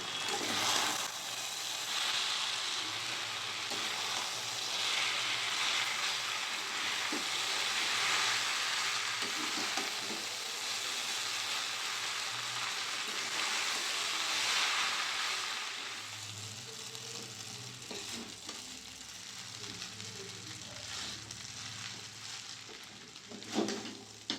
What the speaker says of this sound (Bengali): সব একসাথে মিশিয়ে নিই